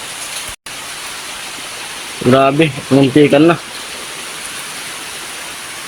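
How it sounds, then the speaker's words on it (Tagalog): Steady broadband hiss of heavy rain fills the clip, with a short burst of talk partway through. "Lakas ng ulan."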